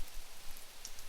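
Soft rain falls as a faint, even hiss with scattered light patter, steady and unbroken, with no voices.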